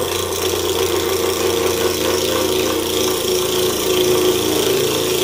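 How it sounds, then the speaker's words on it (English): Parting tool cutting into a spinning maple box blank on a wood lathe, a steady, continuous loud whir with a scraping edge and motor hum throughout, no talking. "I'm just going to take the parting tool in here and make that the center."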